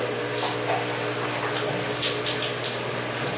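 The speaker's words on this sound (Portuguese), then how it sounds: "e liga o chuveiro." A household shower runs water into a jug or plastic water container during aquarium setup, giving a steady, close hiss and gush that continues evenly throughout.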